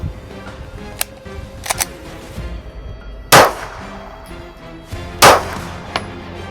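Several sharp, distant gunshots ring out at irregular intervals at a shooting range, with two louder cracks standing out, over a quiet outdoor background.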